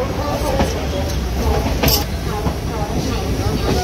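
The Black Diamond Express rolls into Asansol Junction after its run from Howrah, a loud, close rumble with rhythmic rail clatter and a few sharp clanks. Faint voices sit underneath.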